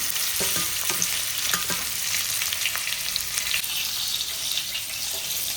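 Stuffed brinjals frying in a pan, with a close sizzle and scattered clacks of stirring running steadily through the whole stretch, no one talking.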